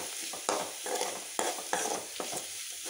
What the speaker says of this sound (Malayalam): നന്നായിട്ട് മൂക്കുന്നത് വരെ നമുക്ക് കുറച്ച് നേരം ഇളക്കിക്കൊണ്ടിരിക്കാം